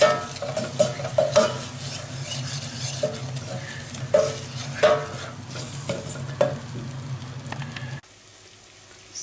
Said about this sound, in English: So I'm adding in the spices as per the instructions on the jar. I have to stir fry this for 1 to 2 minutes.